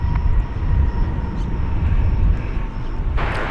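American Airlines Boeing jet on runway 18 Left at DFW Airport, a steady distant engine roar and rumble with a brief hiss rising near the end.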